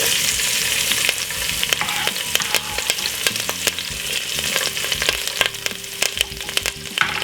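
Chopped vegetables frying in a teaspoon of olive or vegetable oil, a loud continuous sizzle dotted with sharp pops and occasional utensil clicks.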